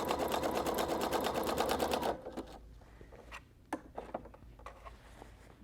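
Sewing machine stitching elastic onto a strip skirt, a close steady rapid run for two seconds, then stopping, followed by scattered handling taps and rustles of fabric.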